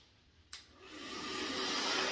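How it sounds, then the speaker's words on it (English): A hair dryer switched on for spreading resin on a marble countertop, starting with a click and swelling into a steady close broadband whoosh that builds in loudness. "You get to take your blow dryer, your hair dryer,"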